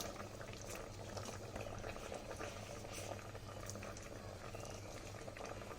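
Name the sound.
tomato and onion gravy boiling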